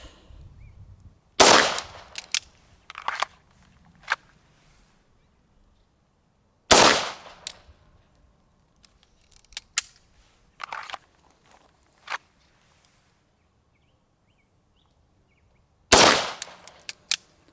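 Sig Legion pistol shots in a double-action shooting drill: three loud, sharp single reports spaced several seconds apart, with quieter handling clicks and metallic clatter in between.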